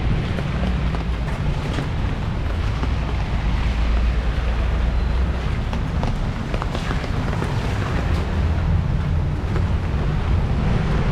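Wind blows hard and steadily on a rainy day in Bangkok, a loud, continuous broadband rush with gusty texture throughout and no voices.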